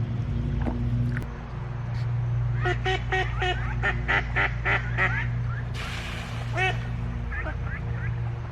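Ducks calling near a pond with a floating log: a rapid string of nasal honking quacks, then a lone call later, over a steady low hum and background noise.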